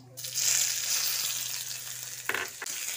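Chopped medium onion hits hot oil with a nigella seed tempering and sizzles steadily and close by in a pan, with a couple of sharp stirring scrapes near the end.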